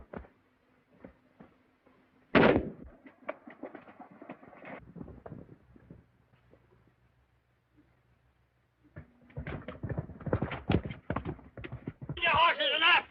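Horses in an old 1933 film clatter along in bursts of hooves under loud shouting and dialogue, with a sharp crash near the start and busy, galloping rhythm returning toward the end.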